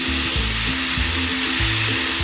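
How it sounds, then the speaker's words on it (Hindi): Milk being stirred slowly into a flour roux for a white sauce over low heat, a steady close sizzle and bubbling with soft scraping strokes throughout, no voices. "इसको आप अच्छी तरह हिलाते जाएं, आँच आप लो रखें"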